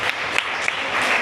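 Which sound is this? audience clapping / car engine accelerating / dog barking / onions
audience clapping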